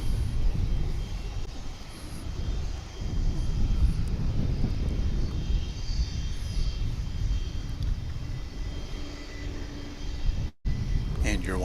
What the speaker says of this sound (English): A300 come in from Palm Beach. This one's going to be a 20-year-old A300 F4.